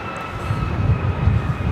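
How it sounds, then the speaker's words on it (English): A United Airlines Boeing 737 MAX 9 jet takes off at Los Angeles International Airport, its engines giving a continuous, fairly loud low roar heard from the ground without speech. "This is United Airlines 2667 taking off to Washington Dulles on the MAX 9"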